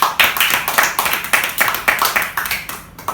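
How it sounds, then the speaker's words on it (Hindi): At a kavi sammelan poetry gathering, an audience welcomes the poet Arafat Mahmood with rhythmic clapping, loud and close, beating in a steady pulse of about three claps a second before tapering off. "जबरदस्त तालियों के साथ स्वागत कीजिए"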